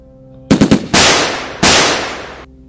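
Several sharp gunshots ring out: a quick burst of three close cracks, then two louder blasts that each echo and decay slowly.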